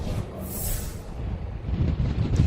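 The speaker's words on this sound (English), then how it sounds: "Yeah, well, it's definitely windy right now." Strong monsoon storm wind buffets the microphone on top of a parking garage at Phoenix airport's Terminal 4, a loud, rough, continuous rumble with gusty swells and no talking.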